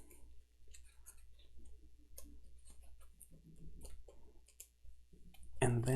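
Board game cards from Kingdom Death Monster are shuffled by hand at close range, giving a series of quiet, irregular clicks and riffles that end in a brief louder burst.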